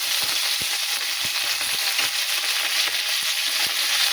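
Garlic and curry leaves hiss and sizzle in hot oil with mustard seeds, a steady bright frying crackle close by, broken by small pops and spatters.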